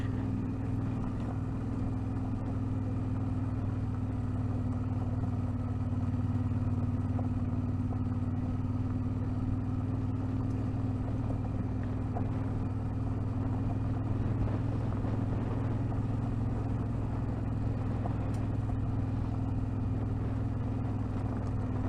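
Car driving off road over loose gravel on a rally, a steady low engine drone with continuous road rumble running throughout, no talk.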